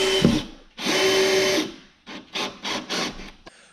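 A power drill drives a screw into a door jamb while bifold doors are being installed in a living room, with a long steady whine followed by several short stop-start bursts of the motor, close and loud.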